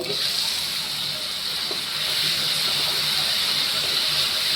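Steam hissing from a cooking pot as its lid comes off, a steady bright hiss held close and fairly loud for several seconds, with faint background noise.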